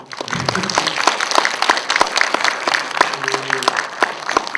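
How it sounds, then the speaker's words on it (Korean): An audience at a film talk event claps in sustained applause, many hands beating in a dense, lively patter at a steady level, with a brief voice audible partway through. "큰 박수"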